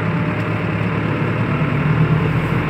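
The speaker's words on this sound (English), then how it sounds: "It's a bit of a delay, the engine drops the revs." A Valtra N114 tractor pulls a loaded trailer uphill, its diesel engine a loud, steady low drone close by with a faint dip in revs under the load.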